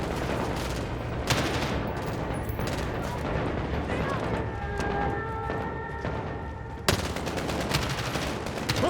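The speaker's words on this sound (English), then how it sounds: "Where the fuck are you shooting me?" Dense bursts of rapid gunfire from a Call of Duty: Modern Warfare match, sustained and loud throughout, with a sharp heavy crack near the end over constant battlefield din.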